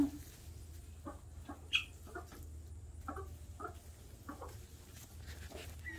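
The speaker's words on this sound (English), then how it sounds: "Anybody else go out and sit down in the coop with their chickens?" Chickens in a backyard coop give soft, scattered clucks and short calls over a low steady hum, fairly quiet and close.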